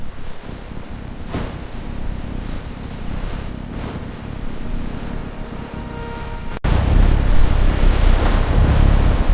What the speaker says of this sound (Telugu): ఏంటిరా ఈ గాలి?